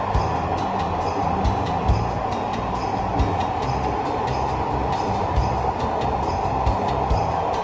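Dhaka Metro Rail train running near Uttara South station, heard from inside the car as a steady loud rumble of wheels and motors with faint rhythmic clicks.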